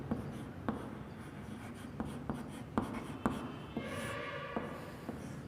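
Writing on a board during a maths lesson in a classroom, steady scratchy strokes with sharp taps at regular intervals, close and alone with no talk.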